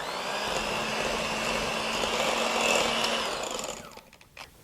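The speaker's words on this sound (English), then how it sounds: "Blend this all together." An electric mixer whirs steadily as it blends a sugar and vanilla mixture, a loud, even motor drone that cuts off near the end, leaving a few faint clatters.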